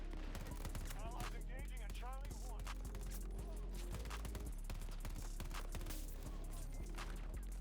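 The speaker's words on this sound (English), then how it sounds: "I forgot this was a burst fire." Burst-fire gun shooting in the video game Battlefield: rapid, loud bursts of gunfire repeat throughout, mixed with dense in-game combat noise and a steady background bed.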